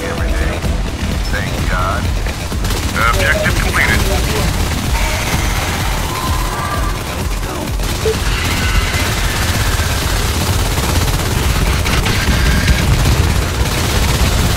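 Gunfire and grenade blasts in the Natural Selection 2 video game, a dense, continuous barrage of shots and booms with voices talking over the battle.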